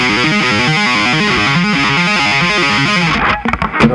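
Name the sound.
electric guitar with heavy distortion playing a song intro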